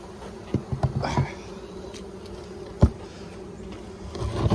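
Honey bees buzzing around an open beehive, a soft continuous drone with a few bees passing close by, plus occasional light knocks and handling noises.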